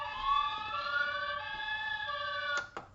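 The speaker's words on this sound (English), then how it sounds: "So siren, that'll run until I turn it off basically." A steady electronic siren tone holds continuously from a small model airport fire truck, a Simba 8x8, followed by a couple of brief clicks near the end.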